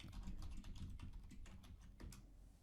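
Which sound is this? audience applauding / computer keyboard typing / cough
computer keyboard typing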